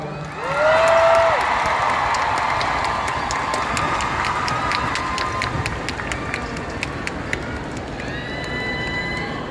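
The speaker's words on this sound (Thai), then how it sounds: "ขอเสียงปรบมือดังๆให้กับ" A concert crowd in Thailand roars with cheering and applause, a dense, sustained wash of clapping and shouting with occasional high whistles, loudest near the start and staying full throughout.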